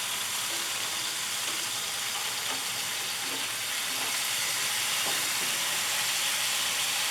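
A spatchcocked chicken on a BBQ grill gives off a steady, broad hiss and sizzle after being flipped, continuous and fairly loud with faint crackles and pops scattered through it, no voices.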